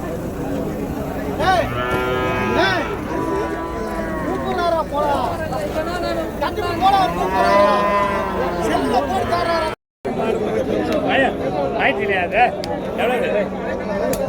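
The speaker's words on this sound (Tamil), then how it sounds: "பெரிய பெரிய மாடுங்க தான் கலப்பின மாடுங்க" Crossbred cattle at a busy livestock market moo repeatedly, long loud drawn-out calls overlapping one another nearby, over a background of people chatting and talking.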